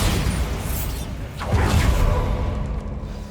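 A Bombarda blasting spell goes off in Hogwarts Legacy, a loud booming explosion with a sweeping whoosh that swells midway and rumbles on, set against a dense, busy game soundscape.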